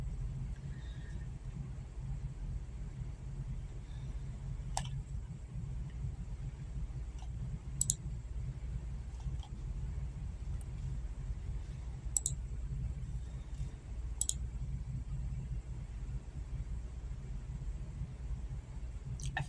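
Computer mouse clicks, a handful of faint, sharp, isolated clicks spaced irregularly over a steady low background hum.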